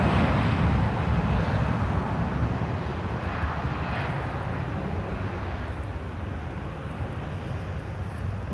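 Airbus neo airliner engines roar at Lisbon Airport, a broad, steady jet rumble that fades slightly over several seconds, with some wind buffeting and no talking.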